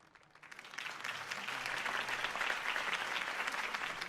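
Crowd applause in Batman: The Telltale Series, rising from a quieter start into steady, dense clapping that holds strong through the rest.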